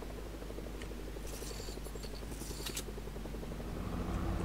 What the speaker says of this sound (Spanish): Ojo al helicóptero.